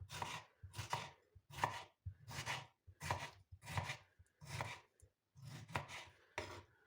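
Tomatoes are sliced with a knife on a board in a steady run of about ten quiet, close chops, roughly two per second, with no speech.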